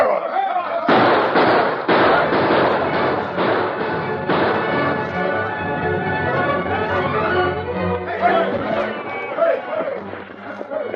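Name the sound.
gunfire in a radio drama ambush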